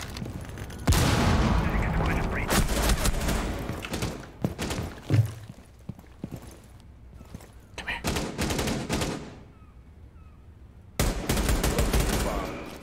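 Rainbow Six Siege gunfire in a match: loud, close bursts of automatic rifle fire in long sustained volleys, broken by short pauses and single sharp shots, with a final heavy burst at the end.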